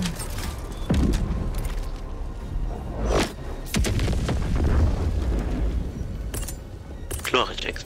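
Several heavy booms and thuds of artillery explosions burst out over a dense soundscape in the video game Helldivers 2, with a voice talking over parts of it.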